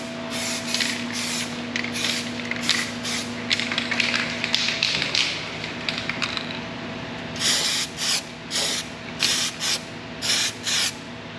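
Rusty red primer from a spray can with a clean-spraying nozzle, applied to a truck bed: repeated short hissing bursts, then a series of evenly spaced sprays near the mic, with no talking.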